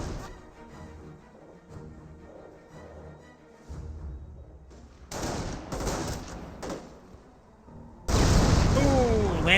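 Landmines detonate in the World War II strategy game Company of Heroes, two heavy blasts with the second louder and longer, amid battle noise and rattling gunfire, while a voice talks over the action.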